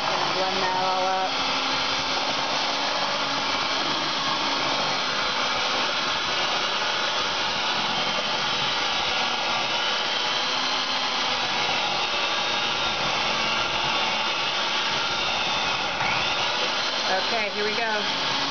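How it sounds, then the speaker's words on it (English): A kitchen blender runs steadily while blending batter, its whirring motor drone filling the room at close range and carrying on without a break from start to finish, with a brief rattle and shift in pitch near the end. "So now he's going to turn this blender on."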